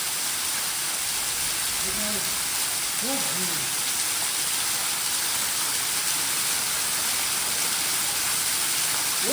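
Loud, constant roar of a waterfall close by near Kondhane Caves, a dense rushing wash of water, with a brief voice barely audible beneath it early on.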